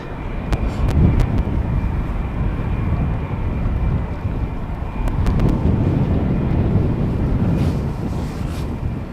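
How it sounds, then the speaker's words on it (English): A Finnair Airbus A321 airliner at Amsterdam Schiphol rumbles with a broad, steady engine roar, close and loud, swelling slightly midway, with gusty wind buffeting the microphone and a few sharp clicks, no talk. "So this is a Finnair A321 going to Helsinki"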